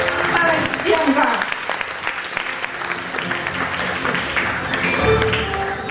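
A hall audience applauds at the Ukrainian Spa & Wellness Professional Awards ceremony in 2010, dense sustained clapping throughout, loud and close, with voices and music faintly underneath.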